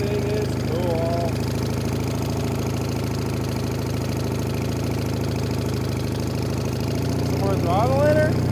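The engine of an old Case trencher idles with a steady, heavy, low rumble and a slight knocking, close and continuous, rising slightly near the end, while a voice speaks briefly over it.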